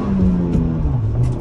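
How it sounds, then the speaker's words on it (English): A 2022 Ford Bronco Badlands with a manual gearbox accelerates hard in first gear off-road, its engine droning loud and steady with a rising, then settling pitch and a brief shift-like dip midway. "First gear on the gas."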